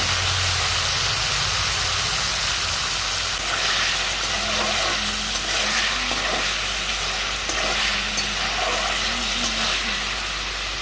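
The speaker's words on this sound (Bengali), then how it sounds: "পনির ভেজে নেবো এই সাদা তেল দিয়ে।" Paneer pieces fry in hot white oil with a loud, steady sizzle and crackle, a dense bubbling hiss that runs unbroken, with occasional clinks of a utensil.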